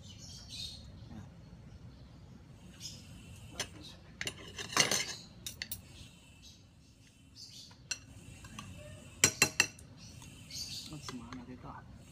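A metal utensil clinks and scrapes inside a pot while arroz caldo is mixed. Sharp taps come in small clusters against a quiet, low background hum, and there is a little faint background noise.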